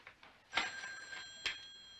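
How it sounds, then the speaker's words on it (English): A telephone rings indoors with two short electronic trills about a second apart, thin and somewhat distant over a quiet room, with no one speaking. "That's our phone."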